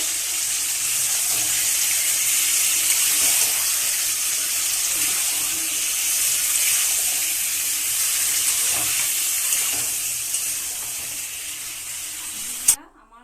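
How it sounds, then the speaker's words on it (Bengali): Chicken pieces sizzle and fry steadily in a hot pan while being stirred and sautéed in a home kitchen, a continuous bright hiss throughout, with a sharp clatter near the end. "এবার আমি চিকেনটাকে ভালো করে কষবো।"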